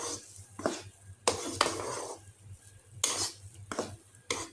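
A spoon scrapes and stirs thick suji halwa in a pan, giving several separate metallic scraping strokes at close range with quiet pauses between them.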